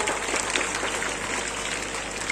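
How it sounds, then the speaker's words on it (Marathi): Steady, dense applause from a crowd at an annual prize distribution ceremony, continuous and even throughout with no pauses or voices standing out. "सर्वांनी जोरदार टाळ्या वाजवून त्यांचं हार्दिक स्वागत करूया."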